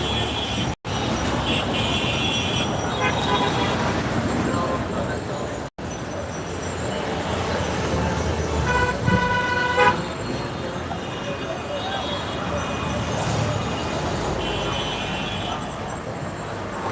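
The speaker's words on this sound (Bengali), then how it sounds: "ঢাকা শহরের বিশাল একটি রাস্তা" Dense road traffic on a large street in Jatrabari, Dhaka, with repeated car horns honking over a continuous broadband rumble of engines and wheels, loud and close throughout.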